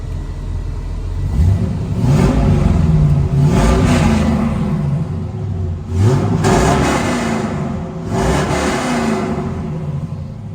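A 1969 Chevrolet Camaro restomod with a mostly stock LS swap and dual exhaust idles with a deep rumble, then is revved repeatedly in several loud rising blips, close and alone.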